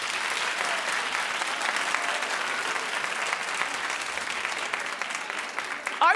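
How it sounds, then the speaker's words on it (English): Studio audience on a daytime talk show breaks into steady, dense applause that holds evenly throughout, with a faint voice near the very end. "Clap if you agree"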